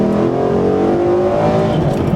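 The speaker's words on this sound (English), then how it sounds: "it is a Mustang. I do have to do a first gear pull." A Ford Mustang GT engine revs hard in a first-gear pull, its pitch climbing steadily in one loud, continuous pull.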